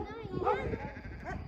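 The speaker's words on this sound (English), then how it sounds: "Oh, there goes the baby sheep." Lamb bleating outdoors on a farm in Villard de Lans, France, one short wavering bleat at moderate distance, fairly faint, with dogs working the sheep nearby.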